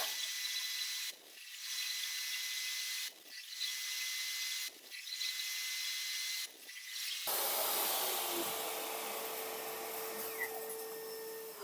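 A power saw cuts wood on a crosscut sled with a steady loud whine. The saw drops out in four short gaps before a harsher, rougher cutting sound takes over and continues.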